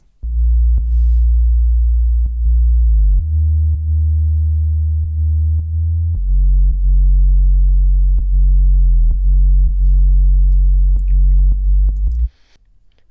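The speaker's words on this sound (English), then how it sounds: "let's listen to this bass and I'll show you how I made it" A deep square-wave synth bass built in Sylenth plays a loud, sustained riff of long held notes that step between a few pitches, with faint clicks at each note change and no voices.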